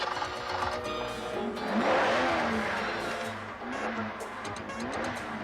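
A stolen car accelerates away, its engine revving up to a loud peak with a brief tire squeal, then settling into a steady drone as it speeds off.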